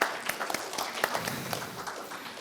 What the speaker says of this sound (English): let's give a round of applause for Encik Ikhwan here.